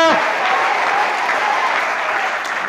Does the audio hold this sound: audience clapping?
yes